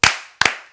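Two sharp, close hand claps about half a second apart, each a crisp smack with a short fading ring, loud and alone.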